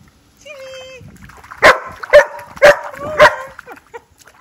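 A dog nearby lets out a whining whimper, then four loud, evenly spaced barks follow close up.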